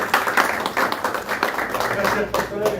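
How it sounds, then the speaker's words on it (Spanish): A church workshop audience gives a warm, loud welcome applause for pastor Fabián Mena, with steady dense clapping carrying on under a speaking voice throughout. "Lo recibimos con un fuerte, caluroso aplauso."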